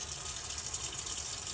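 Tap water runs steadily over frozen meat in a sink to defrost it, a constant, moderately quiet hiss and splash with no pauses and no talking.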